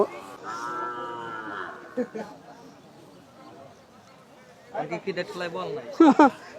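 Cattle at a shrine festival gathering, including a small red-and-white horned cow: one drawn-out moo rises near the start, then people talk nearby amid the murmur of the crowd.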